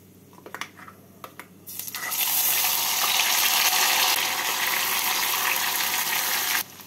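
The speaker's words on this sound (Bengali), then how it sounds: "মিক্সিং জারটা দিয়ে জল দিয়ে দিলাম।" Water from a mixing jar pours into spice paste frying in a pan for veg shahi paneer, the faint clicks and taps giving way to a loud, steady broadband hiss and gush that holds for several seconds before cutting off.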